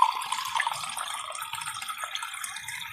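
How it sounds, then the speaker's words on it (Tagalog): Water pours steadily into a pot of soup in a home kitchen, a close, continuous splashing trickle that stays fairly even for a few seconds. "Lagyan na natin ng tubig, mga kaguro, ng sabaw niya."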